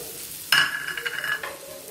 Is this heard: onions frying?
yes